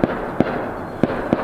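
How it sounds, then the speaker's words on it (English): Four sharp shotgun reports from duck hunters at a distance, spaced irregularly over about a second and a half, each a short booming thump with no talking. "Now they're shooting more"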